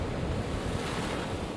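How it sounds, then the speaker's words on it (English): Hurricane Matthew's winds roar and buffet the microphone in South Carolina, with rain driven sideways, making a loud, dense, unbroken rush of wind and water noise. "The rain blowing sideways, winds gusting over 40 miles an hour."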